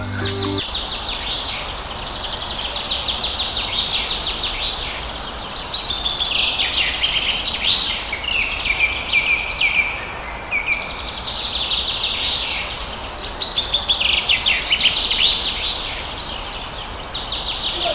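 Birds chirp and call continuously inside a large aviary at a safari park in Gazipur, Bangladesh, a dense chorus of high tweets over a steady hiss of ambient noise.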